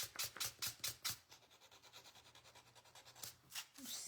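Sandpaper rubs rhythmically against a wooden hutch in quick back-and-forth strokes, a brief pause, then a few more scrapes, all close and fairly faint.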